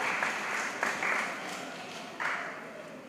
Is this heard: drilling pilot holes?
no